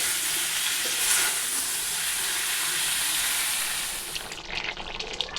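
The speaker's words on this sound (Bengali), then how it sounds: "এই যে এগুলো ফুলকপি আলু এগুলো ভেজে নিই" Cauliflower florets and potato pieces fry in hot oil in a pan, giving a loud, continuous broadband sizzle that eases toward the end into lighter crackles and spatters.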